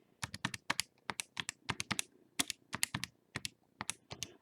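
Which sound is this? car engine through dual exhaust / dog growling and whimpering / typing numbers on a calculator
typing numbers on a calculator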